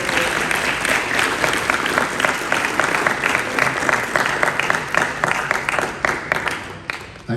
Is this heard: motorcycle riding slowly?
no